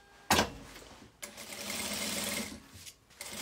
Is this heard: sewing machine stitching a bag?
yes